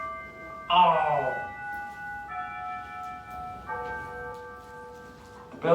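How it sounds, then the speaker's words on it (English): A bell sounds in a classroom during a drama lecture as a short series of clear, sustained ringing chime tones, each sounding fairly loud and then lingering, with no talk over it. "The bell is early."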